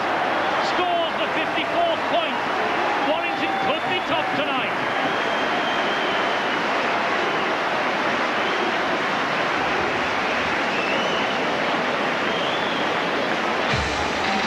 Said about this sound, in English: The crowd chant, easy, easy